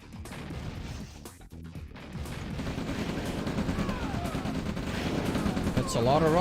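Rapid bursts of rocket fire from massed infantry in a Red Alert real-time strategy battle, a dense stream of crackling shots and blasts that grows steadily louder, with a voice briefly heard near the end.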